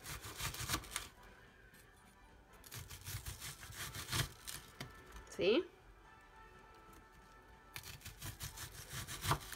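A knife cuts through a vegetable for a chopped salad in a kitchen. Quiet, rhythmic scraping strokes hit the board in short bursts, with a brief squeak midway, while a person speaks briefly.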